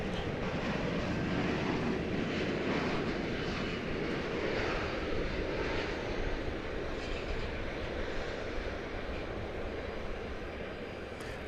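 A jet airliner on approach to DFW Airport roars overhead, a loud continuous engine rumble that stays strong and slowly eases off toward the end, with no voices.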